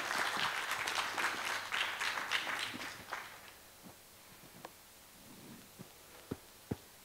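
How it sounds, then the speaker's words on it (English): An audience at an HR EHS conference claps in a dense round of applause that tapers off after about three seconds, leaving a few scattered isolated claps. "A loud round of applause for him."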